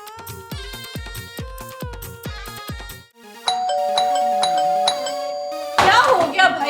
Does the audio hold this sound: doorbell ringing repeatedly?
yes